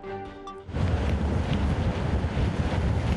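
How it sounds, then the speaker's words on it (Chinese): Strong typhoon wind roars at a harbour on the Hualien coast, a dense, loud, unbroken rush buffeting the microphone after a quieter moment, with churning sea and waves underneath. "已经可以很明显的感受到天平台风所带来的风势跟雨势"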